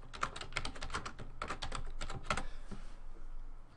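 Keys clatter on a computer keyboard in quick, irregular bursts while a spreadsheet title is typed, close and fairly quiet, with no talking.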